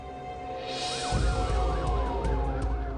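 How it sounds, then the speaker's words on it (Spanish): Police sirens wailing through the Brentwood neighborhood of Los Angeles at night, a loud rising and falling electronic wail swelling in over a low rumble and holding steady, several tones overlapping. "Se escuchan sirenas de la policía en el barrio de Brentwood"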